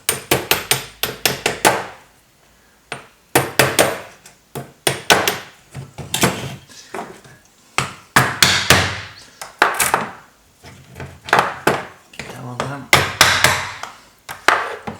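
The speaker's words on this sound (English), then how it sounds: "You have to knock it a few times to get it really together." Hammer knocking parts together on a floor while building a signal generator project, loud close repeated thwacks in quick bursts of several blows separated by short pauses.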